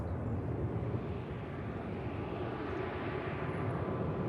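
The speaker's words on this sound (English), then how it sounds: "Yeah, Malta Air entering the active now." A Malta Air airliner taxiing onto the active runway at Manchester Airport, with a steady broadband engine roar at moderate distance and no breaks.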